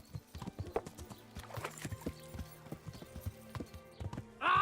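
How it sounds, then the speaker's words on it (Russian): Horse hooves clip-clopping at a walk in the Kingdom Come: Deliverance video game, steady uneven clops over a quiet background, ending in a brief whinny. "Лошадь."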